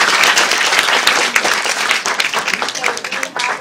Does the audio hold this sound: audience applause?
yes